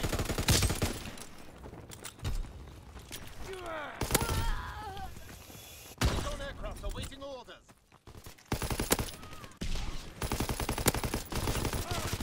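Gunfire in the WWII shooter Call of Duty WWII: bursts of rifle and machine-gun shots crack in rapid volleys near and far, with a voice talking over parts of the battle.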